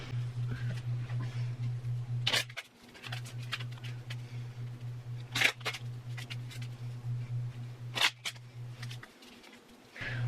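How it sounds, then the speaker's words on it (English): A deck of playing cards being shuffled by hand for a tabletop card-draw game, with a few sharp riffling bursts standing out over a steady low hum. "let's go ahead and get these cards shuffled up"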